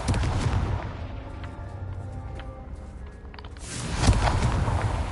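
A blasting-spell explosion in a Harry Potter video game arrives as a loud rumbling boom with crackling debris, followed by a lower mechanical rumble and a second surge of blast noise near the end, with no talk.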